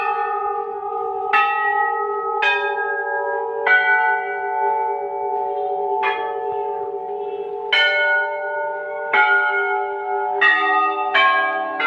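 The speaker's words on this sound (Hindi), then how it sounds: "बहुत पुराने पुराने घंटियाँ लगी हुई हैं यहाँ पे, और बहुत बड़े बड़े घंटे भी लगे हुए हैं।" Large old bronze temple bells ring at a hilltop temple in Almora, Uttarakhand, with repeated loud strikes about every second or two, each leaving a long overlapping metallic hum that sustains between hits.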